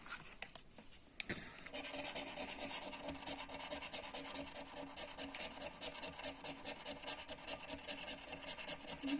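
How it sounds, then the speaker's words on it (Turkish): Coin scratching the number panels on a Turkish Süper 7 scratch-off lottery ticket: continuous soft, close rasping and rubbing strokes in a quick rhythm, faint but steady throughout. "Sadece rakamları kazıyorum."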